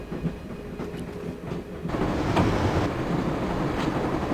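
A train rumbles along in the video game Broken Sword: a steady rolling clatter that swells louder partway through and keeps going, close and loud, with no voices.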